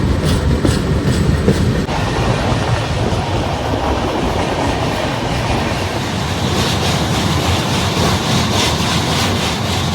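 An express train running from Kolkata toward Agra Cantt rolls steadily along the rails, with a loud, continuous rumble and a rhythmic clickety-clack of wheels over rail joints, and no talking.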